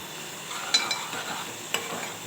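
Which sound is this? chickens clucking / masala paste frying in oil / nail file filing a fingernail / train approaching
masala paste frying in oil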